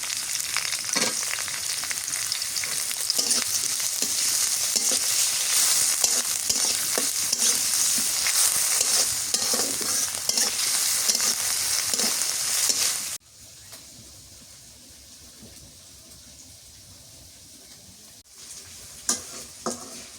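Dried fish, chopped onion and green chili fry in oil, giving a loud, continuous sizzle with stirring scrapes for about thirteen seconds, then a much quieter simmer that ends with a final clatter.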